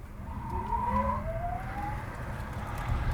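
A 2023 Genesis GV60 electric car accelerating hard in boost mode, with a rising synthetic whine sweeping upward over steady road and motor rumble, heard from inside the car with the window down.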